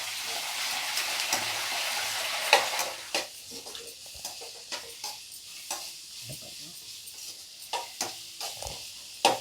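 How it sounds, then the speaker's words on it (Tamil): Ginger and garlic sauté in a pan for a mushroom gravy, giving a soft, steady sizzle. Repeated scraping and clinking stirring strokes sound close by, with no talking. "பச்சை வாசம் இல்லாமல் நல்லா வதக்கிக்குங்க."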